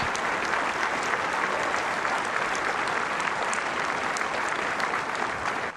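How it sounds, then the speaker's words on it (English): An audience at a worldwide game debut event applauds steadily, a dense, even wash of clapping that holds at full strength for several seconds before easing slightly at the end. "That's why people are all applauding."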